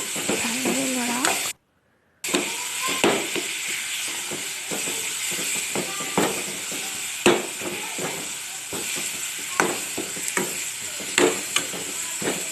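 Spices, cumin powder, salt and turmeric, are stirred in a sizzling frying pan over a steady hiss. A spoon scrapes and clacks against the pan in repeated irregular strokes, close by.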